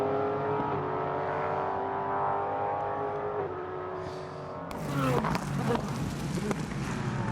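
Race cars at the Twelve Hours of Sebring endurance race: a sustained engine drone with shifting pitch gives way midway to loud, close cars blasting past with sharp gear changes and roaring revs.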